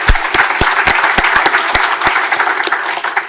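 Audience applause at a live community conversation event with the U.S. Surgeon General, a steady wash of many hands clapping with a few sharp individual claps standing out, fairly close and continuous throughout.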